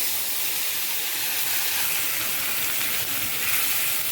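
Ginger paste and radhuni seeds dropped into hot oil with ghee, bay leaf and five-spice tempering, giving a steady, loud, broadband sizzle that hisses evenly throughout without pause.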